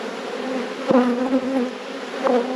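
Honey bees buzz steadily at an opened, queenless rescue hive, a close, continuous drone with a few sharper passes of individual bees near the listener.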